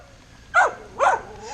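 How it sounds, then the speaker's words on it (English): Two loud, sharp dog barks about half a second apart, close by and alone, heard outdoors while tautog (blackfish) are being filleted. "Just let him bark."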